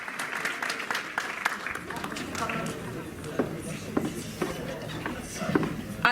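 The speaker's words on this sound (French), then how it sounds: "veuillez l'applaudir très fort s'il vous plaît" A live audience at a French stage show claps loudly and steadily, with scattered sharper claps standing out and voices mixed in the crowd noise.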